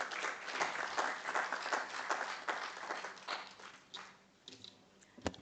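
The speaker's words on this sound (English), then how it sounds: "A round of applause." Applause from an audience at the Nairobi Arbitration Week 2025 conference, a room of clapping that swells and then thins into scattered claps toward the end.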